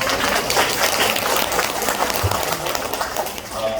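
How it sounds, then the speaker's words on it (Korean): An audience claps during a company lecture presenting new products, a continuous, lively round of applause from a room full of people, fairly close and loud throughout. "다시 한번 박수 한번 해주세요"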